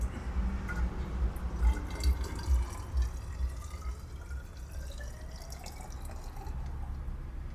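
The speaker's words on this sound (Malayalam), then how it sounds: "ഇനി നമുക്കിത് സിലിണ്ടറിലേക്ക് തന്നെ ഒഴിക്കാം." A petrol and water mixture pours into a measuring cylinder, a gurgling trickle with rising pitch as it fills, fading to a softer steady flow, no voices.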